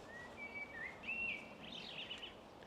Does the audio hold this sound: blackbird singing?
yes